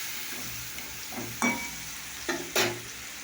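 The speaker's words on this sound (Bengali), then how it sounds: "এবার আমি এখানে দিয়ে দিলাম। এটাকে দিয়ে এবার কষতে হবে।" Spices with chili powder, turmeric and salt stir-fry in a pan, a soft steady sizzle broken by a few sharp scraping stirs of the spoon, close and fairly quiet.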